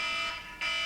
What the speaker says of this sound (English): Just switch off the alarm, man.